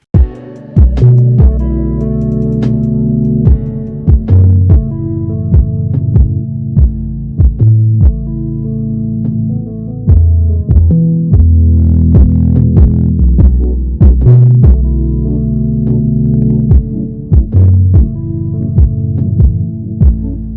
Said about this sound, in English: that's how to create this other room effect, just using the megaphone EQ preset and then the distortion plugin